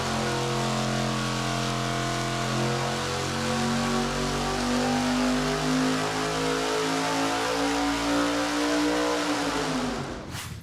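A high-horsepower naturally aspirated engine runs on a dyno in a steady, loud wide-open pull, its tone climbing smoothly for about ten seconds before cutting off abruptly at the end, with no talk.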